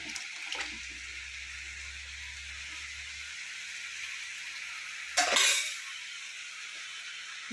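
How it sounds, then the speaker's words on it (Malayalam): Milk poured into a pan while making jackfruit ada pradhaman, a Kerala dessert, giving a steady liquid pour with a soft sizzle as it meets the hot pan, briefly louder near the end, with no talking. "എന്നിട്ട് അതിനകത്ത് നമുക്ക് കുറച്ച് പാൽ ഒഴിച്ചു കൊടുക്കാം"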